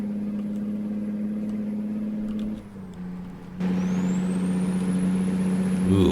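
A heavy truck engine in American Truck Simulator drones at a steady pitch, drops briefly during a gear change, then settles back at higher revs, loud and continuous with no talk.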